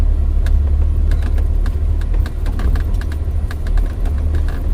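A Mahindra Thar drives along with a loud, steady low engine and road rumble from inside the vehicle, with faint clicks and rattles.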